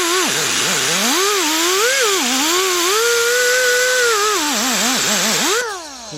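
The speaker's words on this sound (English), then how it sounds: "now I'm going to take my wire wheel brush" A power-driven wire wheel brush scrubs the piston tops of a 2003 Jeep Liberty Sport 3.7 engine, its whining motor rising and falling in pitch as pressure changes, close and loud for several seconds before winding down.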